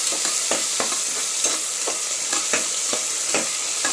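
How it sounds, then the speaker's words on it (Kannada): Tomatoes frying in a pan with a steady, close sizzle, cut by a run of sharp, regular scraping strokes as a spatula stirs them, about two or three per second. "ಟೊಮೆಟೊನೂ ಅಷ್ಟೇ, ಅದನ್ನು ಕ್ಲೀನಾಗಿ ಫ್ರೈ ಮಾಡ್ಕೊಬೇಕು"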